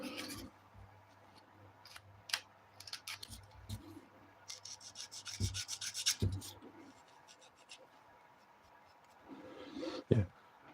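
A Gundam plastic model part is trimmed and scuffed by hand, giving soft intermittent rubbing and scraping strokes with a few sharper snips, close and quiet, with brief murmurs between.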